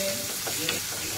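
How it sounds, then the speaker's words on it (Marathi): Onion sizzling and being stirred in hot oil with garlic and asafoetida in a pan, a steady frying hiss with soft scraping stirs, close and continuous, no talk. "लसूण टाकल्या आपण हिंग टाकून कांदा टाकून परतून घ्यायचं।"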